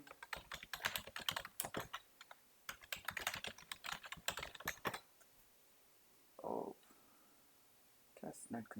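Rapid clattering keystrokes on a computer keyboard entering a network command, two dense bursts of typing up close, then a pause with a brief low murmur and a few final taps.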